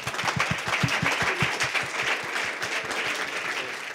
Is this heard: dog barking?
no